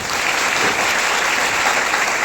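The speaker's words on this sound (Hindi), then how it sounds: "एक बार जोरदार तालियां मिस्टर राहुल सिंह सर को" Audience applause at a Sunday business plan show, a dense, steady wash of many hands clapping, loud and close, sustained evenly for the whole moment with no voices over it.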